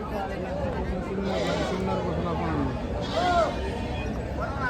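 Nanny goats with young kids bleat at a busy goat and sheep market in Chakan, Maharashtra; several wavering calls rise over a constant crowd murmur and nearby talking.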